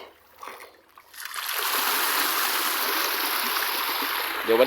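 Water gushes steadily into a catfish pond, a loud broad rushing stream that swells in after a quiet second and holds on without pause, close by, with no talk over it.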